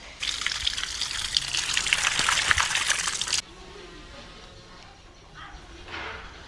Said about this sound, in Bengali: এবার মাছটাকে ভালো করে চোখটা পরিষ্কার করে ধুয়ে নেব।